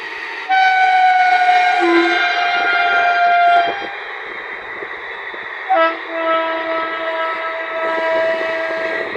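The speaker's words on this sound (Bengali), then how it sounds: "ট্রেন এখন তোমার চলে গেল বহরমপুরের দিকে।" A loud train bound for Baharampur rumbles past close by, beside rice fields, while its horn sounds in long sustained blasts, the noise steady throughout.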